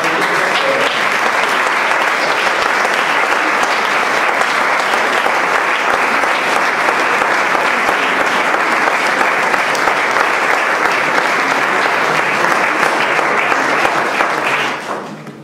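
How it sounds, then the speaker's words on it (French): A concert audience at a tribute show gives loud, sustained applause for a guest musician. Dense, even clapping from a large crowd fills the whole stretch and fades out at the very end. "j'aimerais que vous applaudissiez bien fort notre ami"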